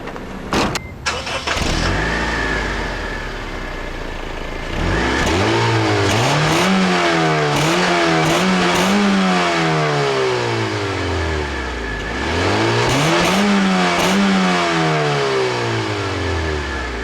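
The 1.8 liter R18 engine of a 2006 Honda Civic Coupe EX with a manual gearbox starts, then revs loudly twice, climbing and falling each time before settling back to idle, heard up close with no talking.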